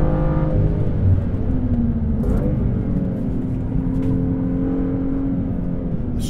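A 2016 BMW M2 engine on the Gingerman race track, a continuous loud drone climbing and dropping in pitch as the car accelerates through gears, heard from inside the car with no talking.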